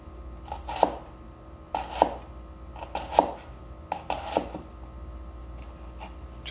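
Knife slicing an onion into quarter-inch julienne strips on a cutting board, a series of crisp, close chops in small clusters with quiet pauses between.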